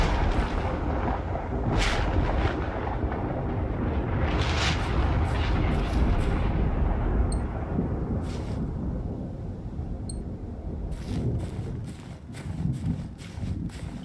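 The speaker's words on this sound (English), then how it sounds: "It's quite the storm." Heavy thunderstorm in the video game Generation Zero, a continuous deep rumble of rain and thunder rolling at close range, with a few sharp crackles breaking through near the end.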